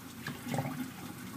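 Bottled water is poured, making a soft, continuous liquid gurgle that runs for a little over a second, faint and close, with no talk.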